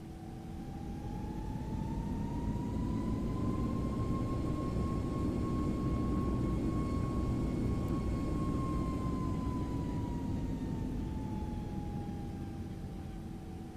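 Simulated jet engines of a Toliss A321neo airliner in X-Plane 11, a loud steady roar with a rising and falling whine tone, continuous for the whole stretch with no talking.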